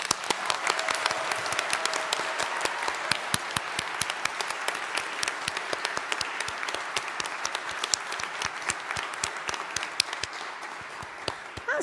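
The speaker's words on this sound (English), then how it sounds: "let's pause and give them the biggest round of applause that you can manage" Large graduation ceremony audience at Greenwich University applauding loudly and continuously, dense sustained clapping with sharp individual claps standing out throughout.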